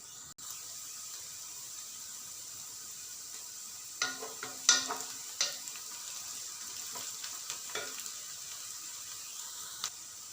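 Onions fry to golden brown in a pan for chicken mandi, giving a soft, steady sizzle with a handful of close scraping stirs partway through and no talk.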